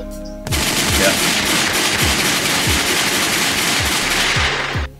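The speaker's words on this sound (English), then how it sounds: "And a few gunshots for the king, Jerry Springer, and his passing." Continuous rapid gunfire rattles for several seconds, loud and dense with repeated bursts of shots, no talking.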